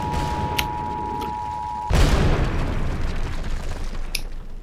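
A sudden deep boom of a missile impact explosion in the lunar game Lunar Flight cuts off a steady tone, followed by a sustained loud rumbling roar with faint crackles of debris.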